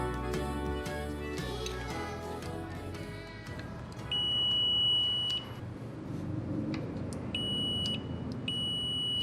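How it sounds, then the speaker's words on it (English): A multimeter beeps during a continuity test on the switch wiring of a BMW R75 cafe racer motorcycle, giving a sustained tone and then several short steady beeps after music fades out. "Using a multimeter, I'm checking continuity to ground when each button is depressed."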